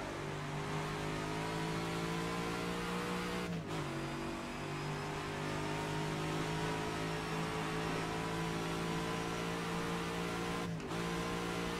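Racing car engine in rFactor 2 at Longford, a 1967-era circuit, droning steadily and loud with sustained harmonic tone, briefly dipping in pitch twice as the throttle lifts for gear changes or corners, then pulling again.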